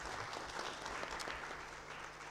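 Applause from a conference audience at an international event on Russia-Africa relations, steady and moderately loud clapping filling the whole moment without speech.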